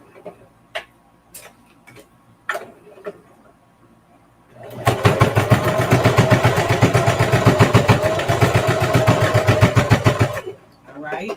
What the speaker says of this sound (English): I am going to sew this down